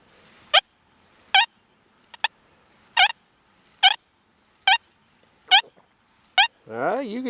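Deus 2 metal detector sounding off over a dime buried more than ten inches deep, giving eight short, sharp warbling tones in an even rhythm, each one loud and clear against a quiet background.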